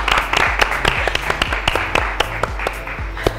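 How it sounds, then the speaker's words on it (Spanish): Applause for a partner at a taekwondo class, a brisk run of sharp hand claps from a small group, close and steady for a few seconds with no talk over it. "Muy bien, el aplauso gusta, para la compañera."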